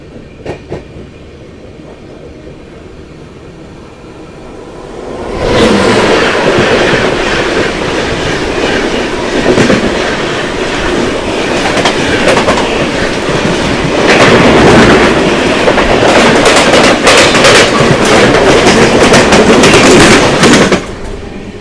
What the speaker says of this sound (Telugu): సో మనకైతే ఇప్పుడు ఆపోజిట్లో కేరళ ఎక్స్ప్రెస్ వస్తుందండి.